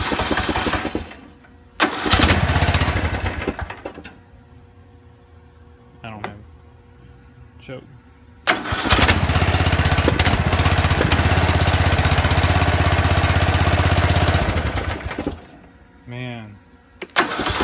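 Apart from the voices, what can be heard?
John Deere Z225 lawn tractor engine starting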